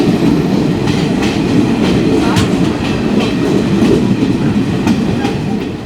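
A passenger train on a mountain railway line rumbles steadily with rhythmic clickety-clack of wheels over rail joints, loud and close throughout with no talking.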